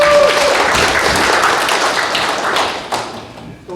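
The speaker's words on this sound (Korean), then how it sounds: "박수 한번 부탁드리겠습니다" Applause from alumni gathered at a school alumni association board meeting in a Seoul hall, dense steady clapping with some sharp taps, thinning out toward the end.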